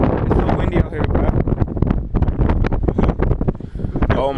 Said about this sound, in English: It's so windy out here, bro.